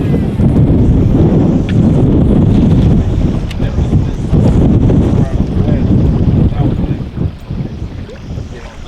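Strong, steady wind buffets the microphone on an Oklahoma lake while people fish for white bass from a boat, a loud continuous roar with gusts that rise and ease, water movement underneath and a voice talking briefly.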